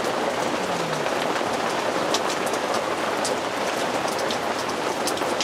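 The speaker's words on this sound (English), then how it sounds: "The rain is kind of coming in this way a bit at me." Rain falls steadily on a tarp by a back step outdoors, a dense, even patter that holds constant throughout with no voices.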